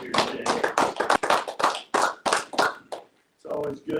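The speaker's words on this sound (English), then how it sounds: "Give that another hand." Audience at a Rensselaer Rotary meeting claps in quick irregular bursts, loud and close, with speech mixed through the applause before it tapers into a brief pause and a final short patter.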